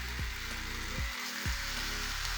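Peach halves go into a hot pan and raise a continuous, even sizzle that stays loud and close, with a few low thumps as the fruit is set down. No voices.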